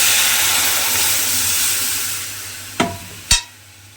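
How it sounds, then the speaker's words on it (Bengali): Dal poured into a pan of fried onion and garlic: a loud sustained sizzling hiss that gradually fades, followed by two sharp stirring clanks near the end, with no voices. "এইবারে যে ডালটা আমি এখানে বাটির মধ্যে রেখে দিয়েছিলাম আলাদা করে ঢেলে, সেই ডালটা কিন্তু আমি এর মধ্যে দিয়ে দেব"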